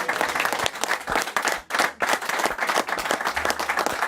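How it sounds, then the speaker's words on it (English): A capacity crowd in a studio audience gives a lively round of applause, dense overlapping claps with a brief dip partway through, close and continuous with little talk. "Give yourself a big round of applause"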